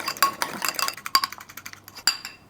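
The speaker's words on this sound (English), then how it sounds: "Stir this up, see how it looks." A spoon clinks against a bowl while stirring a vegan mayonnaise mixed with mustard, garlic, oil and black pepper, giving a few sharp, close, irregular taps and scrapes at a low overall level.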